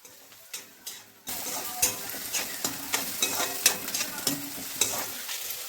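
Food frying in a pan for a fish curry: a couple of soft taps, then continuous sizzling with frequent stirring and scraping strokes of a utensil against the pan, close and clear.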